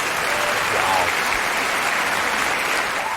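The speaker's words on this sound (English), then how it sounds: "I'm going to let the hand claps go" Sustained applause of many hands clapping, loud and even throughout, a thick wash of claps without breaks.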